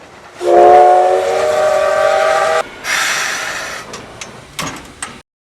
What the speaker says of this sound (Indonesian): tiba-tiba sebuah kereta uap muncul di atas rel